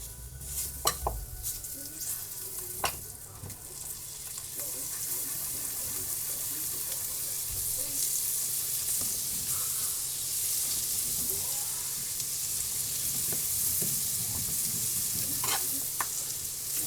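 Black pepper glazed carrots sizzling in butter over lowered heat, a continuous close hissing fry with scattered utensil clinks and taps near the start and end.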